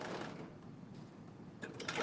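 A sewing machine stitching a bodice seam from a Simplicity 8361/8362 pattern, a steady close whirring run with a brief clattery burst near the end.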